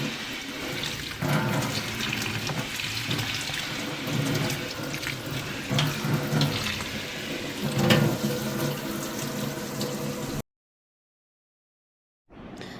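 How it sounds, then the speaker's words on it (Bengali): Water runs from a basin tap as an indoor potted plant is rinsed in the sink, a steady splashing flow for about ten seconds before it cuts off, then resumes faintly. "তো আমি এইখানটায় এই বেসিনে গাছগুলোকে স্নান করিয়ে দিই।"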